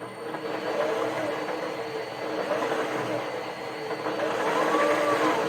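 A Toyota electric motor driven by an OpenInverter whines under throttle, a steady electric drone with tones that slowly rise and fall in pitch, fairly loud throughout.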